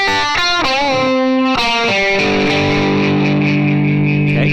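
A loud, heavily distorted electric guitar plays a quick lick from a song, with several sharp picked notes and bends before a long sustained chord rings out.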